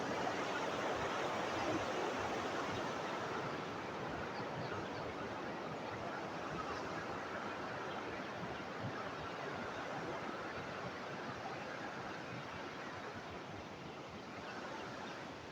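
Water spilling over the overflow of a small village tank in Sri Lanka, a steady, faint rushing wash that holds constant throughout without any talking.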